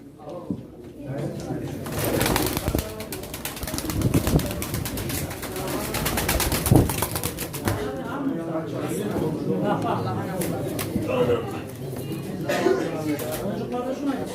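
Tumbler pigeons coo softly among a busy crowd at a pigeon auction in Çorum, with several people talking loudly over the birds throughout.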